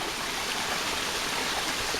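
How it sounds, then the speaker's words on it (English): Creek water spilling steadily over a flat rock, a constant close broadband rush and gurgle of flowing water with no breaks or voices. "That rock has water flowing over it"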